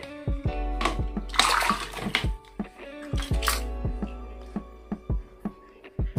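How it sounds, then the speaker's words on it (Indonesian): A sticky lint roller washed under running tap water, with a low steady water hiss and several sharp clacks and knocks of plastic handled near the sink, close and loud, with no talking. "Ini akan saya coba cuci ya, jadi saya coba cuci nanti lengket lagi apa enggak gitu."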